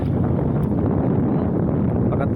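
Strong wind buffets the microphone in a continuous rough roar by a river, with no pauses.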